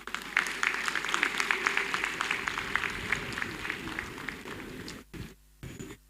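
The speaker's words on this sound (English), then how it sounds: "you've just clapped for him as you are in Trenchard Hall" An audience in Trenchard Hall, University of Ibadan, claps steadily for several seconds at an anniversary ceremony, a dense patter of many hands, then the applause thins out and stops.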